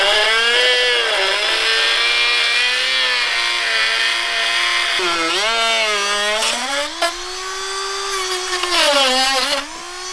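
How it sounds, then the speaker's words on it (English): A Bashan Motomax 250 motorcycle engine runs with its airbox removed, a loud close buzzing idle with a whining tone that rises and falls as the throttle is blipped several times. "Engine, the motor."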